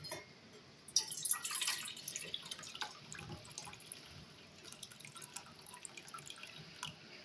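Mutton broth is poured and splashes softly into a pot, with faint dripping and trickling continuing afterward.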